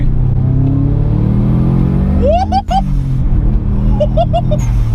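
A modified 1996 UK-spec Subaru Impreza turbo engine drones steadily, then revs climb sharply into a rising whine as boost comes in around 4,000 rpm under hard acceleration, easing off and surging again near the end.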